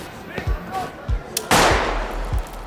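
A pistol fired into a ceiling as a sound effect: a single sharp, loud crack bursting out midway and trailing into a noisy decay, with lighter thumps before and after and a voice speaking.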